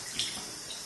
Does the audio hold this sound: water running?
yes